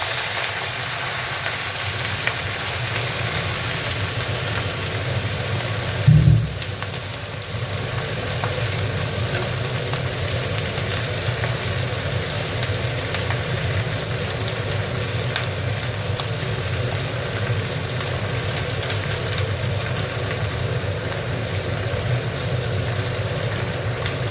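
Vegetables frying in a pan for a prawn chachori, a steady broadband sizzle holding evenly throughout with one brief louder knock early on, no voices.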